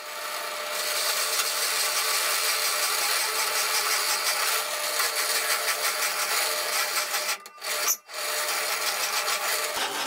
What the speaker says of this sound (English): And I drill the hole in the other side of this wooden base.